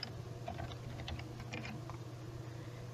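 Typing on a computer keyboard while entering dates into a sales tax settlement period form: scattered soft key clicks over a steady low hum, close and fairly quiet, with no voices.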